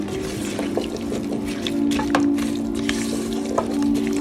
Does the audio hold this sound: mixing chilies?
yes